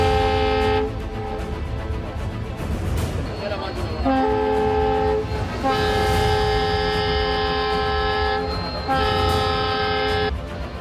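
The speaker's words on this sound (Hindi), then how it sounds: "और इसी हॉर्न के साथ महाराष्ट्र के कोरोना मरीजों के लिए सांस का इंतजाम करने 7 टैंकर्स वाली ऑक्सीजन एक्सप्रेस चल पड़ी" Oxygen Express train with seven tanker wagons departing Kalamboli station in Maharashtra, sounding its loud, sustained multi-tone horn in several long blasts over rumbling rail noise and background voices.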